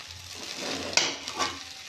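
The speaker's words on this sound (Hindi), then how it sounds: "ये जो पनीर है इसको यहाँ पे हम लोग डाल देंगे, और इसको अच्छे से मिक्स कर देंगे" Paneer being stirred into matar pulao in a pan, a soft sizzle with a few scraping stirs and a light clink of the spoon, quiet and brief.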